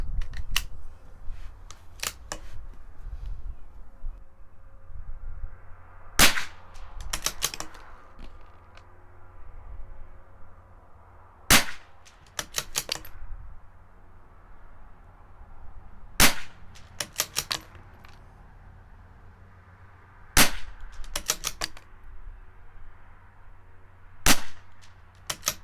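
A CZ 457 rifle fires Lapua Polar Biathlon rounds outdoors, a series of about eight sharp, loud cracks spaced several seconds apart, with quiet handling and bolt noises in between.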